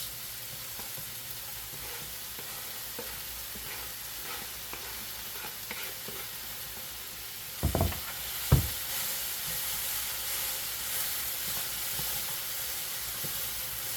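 Cabbage sautéing in a pan while cooking sautéed cabbage with okra, a steady soft sizzle throughout with two brief louder clatters of stirring near the middle.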